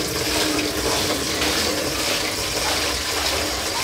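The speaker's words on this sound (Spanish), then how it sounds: "Va saliendo el agua por debajo." Water gushing steadily out from under a watering can being filled, a constant splashing rush that fills the whole stretch at close range, with no voices.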